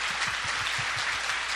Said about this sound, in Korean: 박수 네. 한번 보내주십시오.